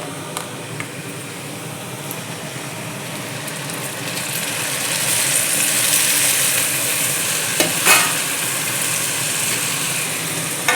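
Green beans stirring and frying with salt in a hot pan, a steady broadband sizzle that swells midway, with occasional scrapes and clinks of the spoon against the pan.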